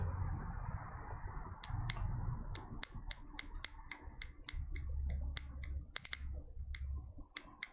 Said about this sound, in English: This is how you chant the mantra with the sound of the bell.